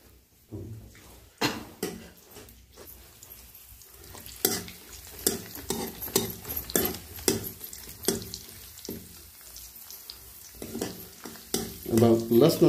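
Garlic frying in hot oil with cumin seeds and ajwain, a steady close sizzle broken by repeated scraping and stirring strikes of a spoon against the pan, growing busier toward the end.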